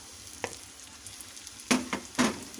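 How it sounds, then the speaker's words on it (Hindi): Tomatoes go into masala eggs frying in a pan, giving a faint sizzle with a light tap and then two louder, close bursts of stirring and scraping. "अब हम इसमें टमाटर डाल देंगे।"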